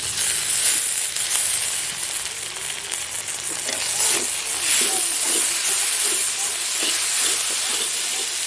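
Chillies hitting hot oil in a pan for a Bengali kalbaush fish curry, a steady loud, close hissing sizzle that runs throughout with small crackling bursts and no talk.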